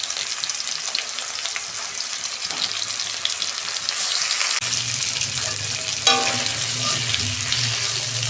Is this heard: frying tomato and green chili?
yes